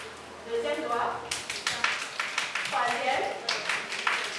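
An audience at a Christian music awards final claps in unison with two fingers, producing a run of light, irregular taps that grow denser after the first second, while a voice talks over them.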